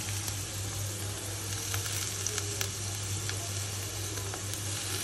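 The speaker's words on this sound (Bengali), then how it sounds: "এবার তো আদা বাটা আর একটু সামান্য জিরে বাটা দিয়ে কষাবো।" Ground ginger and cumin paste sizzles steadily in a hot pan with faint crackles and occasional soft stirring clicks. The frying is continuous and fairly quiet, with no talking.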